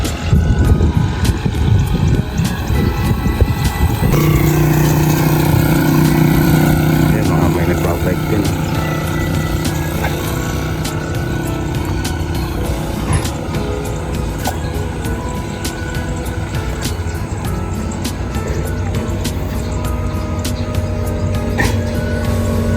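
Motorcycles and other vehicles with lights on travel along a dark, heavily fogged road, their engines droning and rumbling continuously nearby, with one louder engine tone early on and a voice talking over the traffic.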